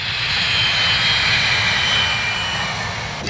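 Engines of a Boeing E-6 military aircraft, a loud steady jet roar with a high whine, close and uninterrupted.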